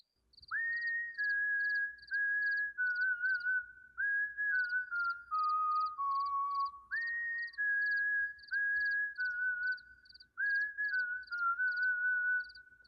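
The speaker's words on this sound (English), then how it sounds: "It was a faint, high-pitched whistle, dragging out the tune of an old," Faint, high-pitched whistling drags out the slow tune of an old, forgotten standard in wooded Appalachian pines at night. Long sustained notes glide and step through a melody over a steady, regular high chirping, with no talk.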